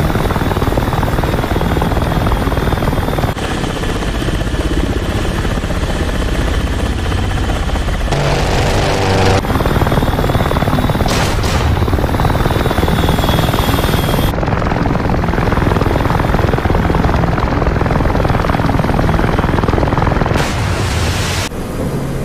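A heavily damaged warplane in DCS World drones loudly and steadily without a break, its engine roar broken by a few abrupt shifts and thumps, with no voices over it.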